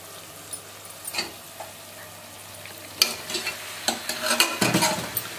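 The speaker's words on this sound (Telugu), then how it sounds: "ఇప్పుడు మటన్ వేస్తున్నానండి" Chunks of mutton hit a pan of fried ginger-garlic paste for a spicy cashew mutton masala curry. A steady sizzle builds as a spoon stirs and scrapes in bursts, close and clear, with no talking.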